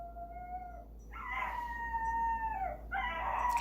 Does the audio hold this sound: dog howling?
yes